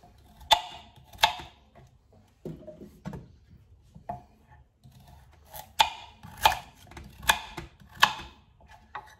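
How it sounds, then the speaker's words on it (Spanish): A knife chops carrot into large chunks on a board for a slow-cooker turkey leg with vegetables, giving close, crisp knocks in loose groups of two or three with short pauses between them. "Voy a cortar unos trocitos que sean grandecitos"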